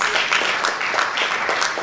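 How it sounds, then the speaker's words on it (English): At the Moodlemoot Philippines 2023 conference, an audience gives a round of applause to welcome a speaker. The clapping is dense and even and fills the whole moment without a break. "let's welcome him with a round of applause"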